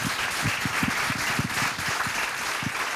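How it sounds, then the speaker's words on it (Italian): Steady applause from an audience at an indoor event in Latina, sustained and fairly loud throughout with no talk over it. "sosteniamolo con un applauso"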